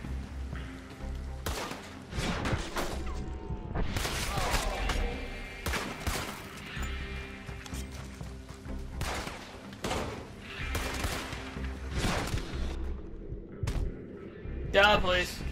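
Gunshots ring out in Red Dead Redemption 2 after a gun is drawn in a saloon. Scattered loud cracks and thumps arrive irregularly across the stretch, mixed with voices talking and shouting.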